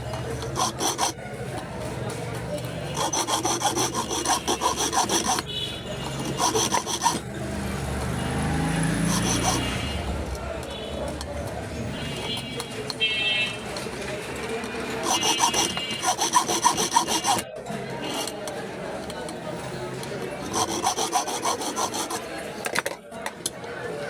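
A blade rasps and saws through a knot, with close, repeated scraping strokes that come in bursts and pauses; someone talks at times between them.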